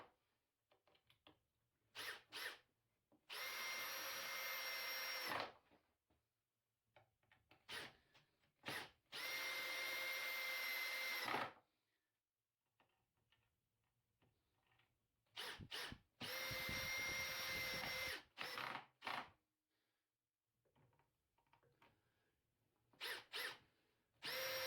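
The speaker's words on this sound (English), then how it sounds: "it's clamped together and then simply screwed into position" Power driver running screws into a wooden tenon jig for a table saw: several loud whirring bursts a second or two long, with quiet gaps of shuffling and handling between them.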